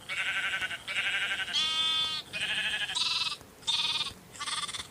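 Sheep bleat repeatedly in a video game with automated animal food production: about seven close, fairly loud bleats in steady succession, each a short wavering call, and no talking.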